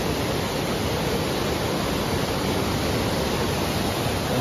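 A large river rushing beneath the old Jogighat bridge, a dense, steady roar of flowing water with no talking.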